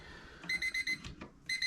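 A countdown timer on a Bob Beck Silver Aid colloidal silver generator goes off with rapid, close, high electronic beeps in groups of four, pausing briefly before the next group starts.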